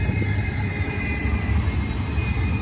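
A fast BNSF Z intermodal freight train running eastbound on main track 1 at Cajon Summit, a steady broadband rumble with low-end roar holding constant and close throughout, no voices over it.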